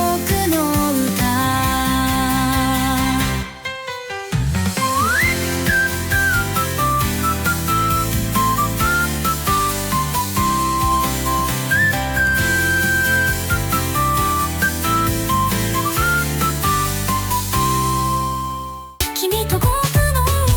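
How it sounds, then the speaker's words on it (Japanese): Suno AI-generated whistling in a J-pop song rises over a full, loud backing track, with the whistled melody gliding up and holding long notes, and a brief drop in the music near the start and end. "J-POP に口笛スタイルを混ぜるとどうなるかな"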